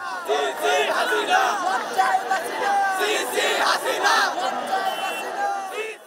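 A jubilant crowd celebrates in the streets of Dhaka, a dense roar of many voices cheering and shouting together, loud and sustained throughout with overlapping chants.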